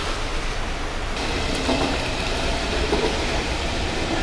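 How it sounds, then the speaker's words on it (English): Model train running through a tunnel at a railroad heritage center in Palestine, Texas, a steady rolling rumble with faint wheel clatter throughout, fairly close, with no voices. "Look out for the train going through the tunnel."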